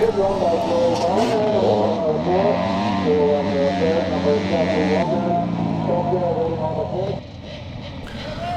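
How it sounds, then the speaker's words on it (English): 125cc and 85cc big wheel motocross bikes race to the finish at a classic charity scramble in Northern Ireland, their engines droning and revving steadily throughout while a commentator talks over them. "we just wait for the remainder of the riders in this 125 and 85cc big wheel race to take the checkered flag"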